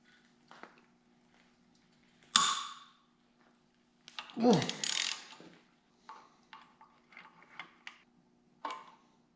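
A ratchet works loose the oil pump on a 1978 GMC K25 engine, with scattered clicks, a sharp metallic clank and a longer ratcheting burst, close and fairly loud against a quiet background hum.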